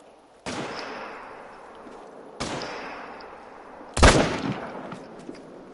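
Three separate loud gunshots fired at a Cape Buffalo in a hunting video game, each a sharp crack followed by a long rolling decay, the last one the strongest.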